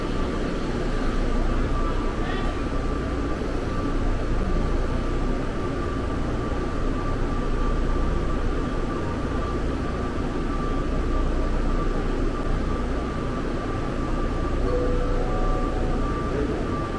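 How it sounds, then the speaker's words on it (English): An automated airport people mover train at Atlanta airport runs with a steady, loud rumble and whine, a constant tone carrying through the cabin for the whole stretch without talk. "This train is departing."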